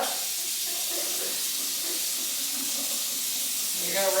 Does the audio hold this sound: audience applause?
no